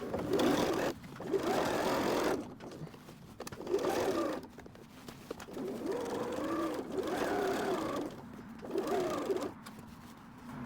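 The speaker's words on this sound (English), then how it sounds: "we're going to sew around it at least 2 times so that it doesn't go past those stitches" Home sewing machine running in repeated bursts, stitching twice around a denim patch over a hole, with steady whirring runs separated by short pauses, close and moderately loud.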